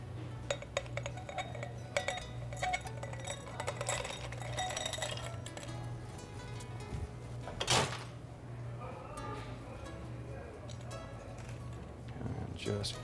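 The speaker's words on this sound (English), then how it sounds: "Fill my glass with ice." Ice clinks and rattles into a glass behind a gastropub bar while cider sangria is mixed, with scattered sharp clinks and a louder burst midway, under a steady background hum and talk.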